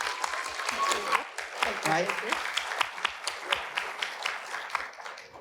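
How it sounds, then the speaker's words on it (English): Audience applause for a guest at a cultural conversation event, a run of distinct claps that comes across as sparse and uneven, with a speaking voice over it. "let's have a round of applause for Dr."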